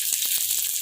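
Peas go into hot fried spice paste for ghugni, giving a steady, close hiss of sizzling oil with faint rattling underneath, heard alone.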